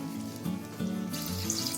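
Water splashes into a pressure cooker in a short, close, gushing pour lasting under two seconds.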